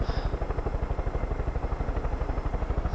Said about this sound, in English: That's the plane just circling the area.